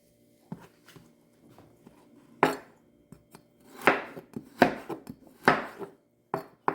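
Garlic is chopped coarsely with a knife on a board: sharp, uneven knocks, sparse and soft at first, then quicker and louder bursts of several cuts, close up with no talk.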